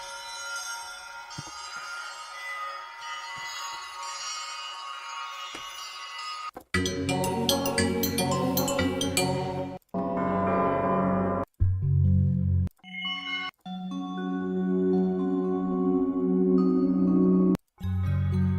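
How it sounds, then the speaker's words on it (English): Synthesized bell tones from Omnisphere 3 software ring out in a series of bright, sustained chimes and struck notes, separated by abrupt cuts and short silences. "for me, that's enough for the bells"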